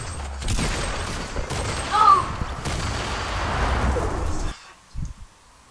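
Heavy gunfire and explosive bursts in a Fortnite match, dense and loud for several seconds before cutting out abruptly, with a player's voice mixed in.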